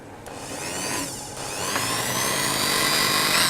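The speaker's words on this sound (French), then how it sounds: "il faut mixer un petit peu" A blender whirs steadily while mixing a clementine panna cotta mixture, its motor noise building slightly louder and holding at a constant, close, buzzing roar.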